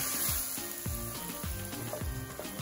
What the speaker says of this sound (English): we're gonna add our tomatoes. And we'll let this cook down for 5 minutes